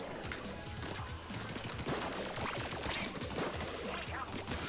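Gloogadoolies dualies from Splatoon 3 fire in a steady, dense stream of rapid, hard-hitting shots that run continuously and loudly without a break, with no talking.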